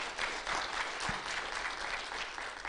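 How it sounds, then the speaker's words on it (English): Audience applause at a regional economic policy conference, a steady round of clapping from a crowd that holds evenly for a few seconds with no voices over it. "Let's give him a better round of applause"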